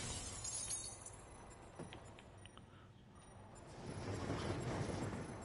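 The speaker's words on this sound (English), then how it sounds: "Oh, break the glass." Glass shatters in Batman: Arkham Knight, a broad, noisy crash that swells late, over busy game ambience with soft clicks and whooshes.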